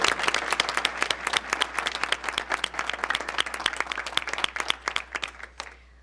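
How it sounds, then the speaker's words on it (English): An audience claps for an honoree at a Livonia Public Schools regular board meeting, a dense burst of applause that holds for several seconds and then tapers off toward the end. "let's start off with a round of applause for this year's honoree"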